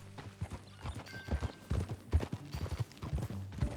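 Horse hooves clip-clopping at a steady riding pace in the video game Red Dead Redemption 2, close and fairly loud, with a faint whinny and no talk.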